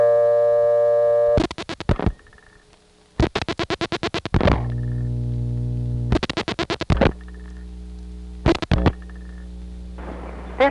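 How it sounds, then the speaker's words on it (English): A 1976 Conestoga Tel&Tel step-by-step exchange in Oley, Pennsylvania, takes dialed digits: steady tones break into bursts of rapid clicking pulses from the stepping switches, then settle into new tones, repeating several times in a loud, clean line recording. "38 will go down to Yellow House, 5 will go over to Douglasville, then we'll dial an invalid digit to get the recording"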